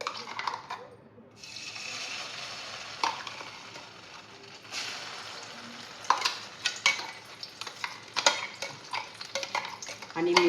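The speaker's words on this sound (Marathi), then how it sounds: "आणि नंतर जो मिक्सरमध्ये वाटण बनवून घेतलं होतं कांदा आणि टोमॅटोचं, ते वाटण याच्यामध्ये आपण घालून घ्यायचं आहे." Onion-tomato paste frying in plenty of oil for misal, a Maharashtrian dish: a soft sizzle with a spoon scraping and clinking against the pan, growing louder and busier toward the end.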